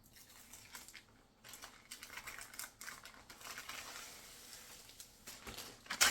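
Backing is peeled off stiffened material for a tote bag, giving soft crinkling and tearing rustles in irregular bursts, close and fairly quiet, with no voices.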